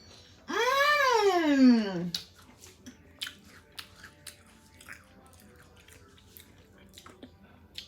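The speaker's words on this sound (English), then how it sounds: "Y'all hear that crunch? So crispy, perfectly cooked" A crunchy bite into a Southern fried pickle dipped in sauce, heard as a loud crisp burst at the start, followed by quieter chewing and mouth sounds.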